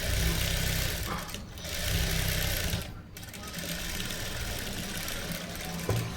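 Sewing machine running steadily while stitching V-neck blouse fabric in reverse, a continuous close mechanical whir with brief pauses and a change in speed partway through.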